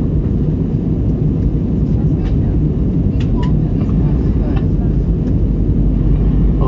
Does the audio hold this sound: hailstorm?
no